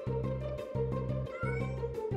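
A cartoon kitten stuck high in a tall tree meows repeatedly over a rhythmic, bouncy children's music track, its cries moderately loud against the beat.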